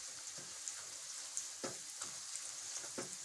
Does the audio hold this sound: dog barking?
no